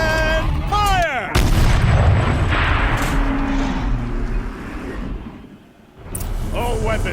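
Heavy turret cannon blasts boom out in the video game Horizon Zero Dawn, a loud burst of gunfire-like impacts with rumbling aftermath, mixed under a character's spoken commands.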